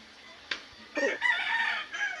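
A Sweater gamefowl rooster crows once in a clear, fairly close call with a short sharp note before it, heard alone with faint background noise.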